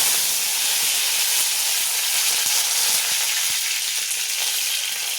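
Curry leaves and cumin seeds hit hot oil in a pan, a loud, steady hissing sizzle that fills the whole clip with faint crackles and pops throughout, no voices.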